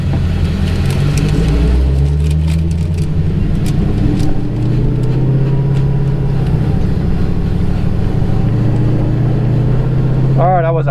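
A Hellcat drag car on a drag strip makes a track run, its loud engine droning steadily throughout. Voices talk over the engine.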